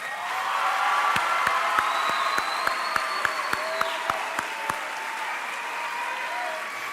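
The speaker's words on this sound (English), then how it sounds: "audience, let's give Class 37 Student Council members a round of applause." A graduation ceremony audience at Sunburst Youth Academy applauds steadily for the student council, with a few cheers and whoops rising over the clapping; sharp, evenly spaced knocks or claps stand out near the microphone.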